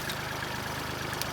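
A tractor engine runs steadily at close range, a continuous low rumbling drone with a throbbing pulse and no voices.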